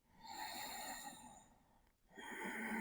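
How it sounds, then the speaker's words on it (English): Slow ujjayi ocean breath during a yoga flow: a soft, close, hissing exhale that swells, fades into a brief pause, then a fresh breath begins, quiet and alone. "staying with your ocean breath, but slowing it down and hearing the soothing sound"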